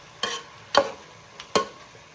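Chicken frying dry in a pan, stirred in three or four sharp scraping strokes spaced about half a second apart, each a brief loud rasp over a quiet sizzle, with no talk.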